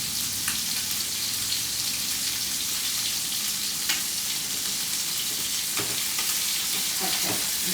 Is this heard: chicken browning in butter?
yes